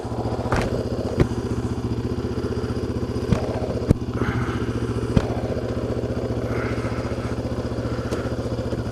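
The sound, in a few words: motorcycle riding on a trail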